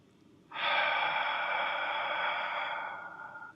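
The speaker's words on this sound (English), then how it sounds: "So we inhale quickly and exhale. Make it audible until you feel the side abs kick in." A single audible breath for a ribcage breathing exercise, a quick sharp inhale-exhale rush of air that starts abruptly and holds steady and close before fading slightly, with no talking.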